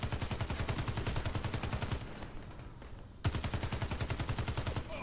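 Rapid, evenly spaced bursts of machine gun fire in the video game Warface, loud and close, run continuously for two seconds, pause briefly, then resume at the same steady rhythm.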